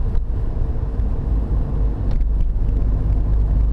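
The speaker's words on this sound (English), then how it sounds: "So the traffic's a little heavier on Rock" Heavy afternoon traffic rumbles along a busy street, a dense, steady low roar of passing cars and larger vehicles heard close by without speech.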